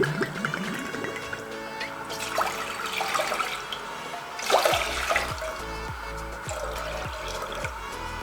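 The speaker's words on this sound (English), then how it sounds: "So I am adding in like 3 glass of water." About three glasses of water are poured into a pan for ginger and ajwain tea, splashing and trickling close by in several uneven pours.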